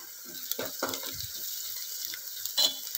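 Onion sautéing in a pan as a quarter spoon of asafoetida goes in, a soft continuous sizzle with a few scraping stirs and small clinks, close by and fairly quiet.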